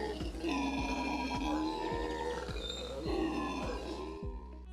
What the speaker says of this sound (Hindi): हाउलर बंदरों द्वारा मैक्सिमम 140 डेसिबल जितनी आवाज निकाल सकते हैं ये लोग